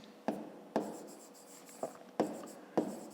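A pen or pencil writes by hand on paper while math is worked out, giving five or six distinct scratchy strokes, each a sharp tap followed by a brief rub, fairly close and quiet with no talk.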